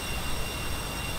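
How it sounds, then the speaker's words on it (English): Steady, loud broadband jet roar of an A-10C heard from outside the aircraft in the DCS World flight simulator, a continuous wash of engine noise with no break. "this is the sound of the almighty A-10."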